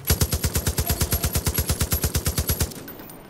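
Rapid automatic gunfire from the video game Far Cry 5, about two dozen evenly spaced loud shots in a steady burst that stops abruptly, leaving a faint tail.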